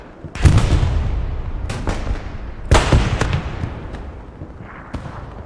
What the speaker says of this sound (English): Rocket comes in on that bunker